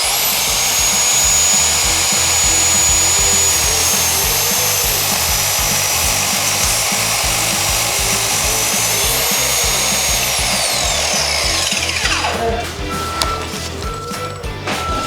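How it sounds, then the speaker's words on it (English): An Excel 8.5 inch (216mm) mitre saw spins up with a loud high whine, drones steadily while cutting through wood, then the pitch falls as the blade spins down, followed by clatter and handling noises. "make sure you remove the fence like that and then tighten this way in order to cut through the wood"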